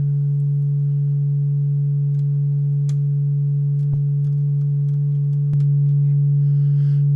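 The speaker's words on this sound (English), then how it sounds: "This is going to be like all sine waves all day. 4 different sine waves in different phases." Four modular synthesizer sine waves in different phases hum continuously and loudly, a low fundamental with fainter upper tones, broken by a couple of faint clicks.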